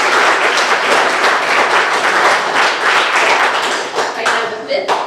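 A school awards assembly audience claps steadily for student placers, dense, loud applause sustained for about five seconds before tapering slightly at the end.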